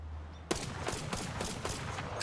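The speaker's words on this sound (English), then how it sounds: "It's kinda like automatic sniper rifle, right?" Automatic sniper rifle in Tiny Tina's Wonderlands firing in a steady rapid burst, about seven sharp cracks at even intervals after a short quiet lead-in, fairly close and alone.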